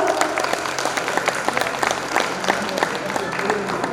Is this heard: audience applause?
yes